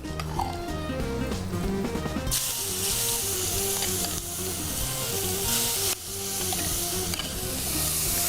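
Chicken marinated in chicken tikka masala and lemon juice sizzles loudly in hot mustard oil, a dense, steady frying hiss that swells after the first couple of seconds and runs continuously over faint tonal background music.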